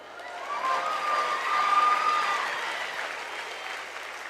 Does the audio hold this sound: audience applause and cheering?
yes